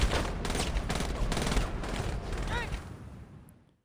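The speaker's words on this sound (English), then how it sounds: "I hate this fucking gunfire." Rapid gunfire in the video game Saints Row, a dense burst of repeated shots and fusillade clatter that continues for about three seconds before cutting off into silence.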